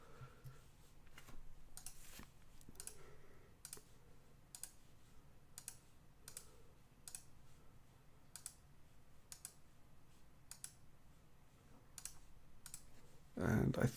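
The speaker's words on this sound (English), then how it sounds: "It's just a matter of going through and clicking on all these to get them set up and ready to go" Mouse clicks while setting up airport workers in the SimAirport management game, a steady run of sharp, quiet clicks repeating every second or so over a low background hum.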